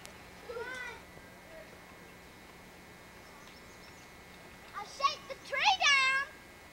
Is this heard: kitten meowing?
yes